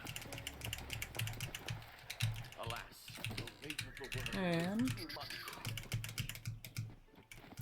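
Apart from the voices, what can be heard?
computer keyboard typing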